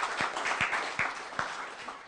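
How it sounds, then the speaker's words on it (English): An audience at a community gathering claps in a loose round of applause, with several sharper individual claps standing out above the steady patter. "So give yourselves a round of applause for your generosity."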